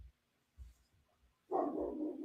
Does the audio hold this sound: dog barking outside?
yes